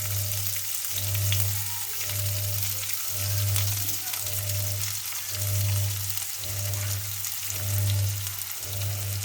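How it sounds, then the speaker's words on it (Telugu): Chopped onions and green chillies frying in a pan for egg fry give a dense, loud, continuous sizzle close by, with a low rhythmic hum pulsing underneath and no speech. "ఈ లైట్ గోల్డ్ కలర్ వచ్చే వరకు ఆనియన్స్ వేయించుకోవాలి"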